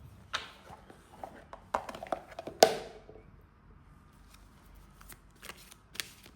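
Tarot cards being shuffled and drawn, with soft riffles, slides and several sharp snaps of card on card, close and fairly quiet, followed by sparse light taps.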